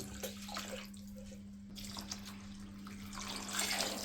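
A small amount of water runs into coconut milk in a cooking pot for pulao, a faint, steady trickling wash with a low hum beneath that swells slightly near the end.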